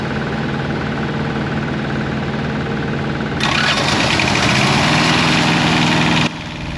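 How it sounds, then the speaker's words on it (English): Thermo King TriPac Evolution auxiliary power unit on a truck starts up and runs, a steady close engine drone that steps up louder partway through before dropping back, with no voices. "we're going to fire up the APU"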